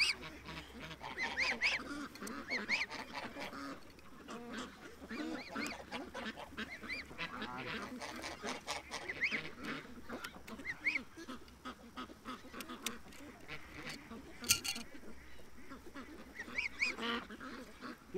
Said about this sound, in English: Just a squeaky little goose voice.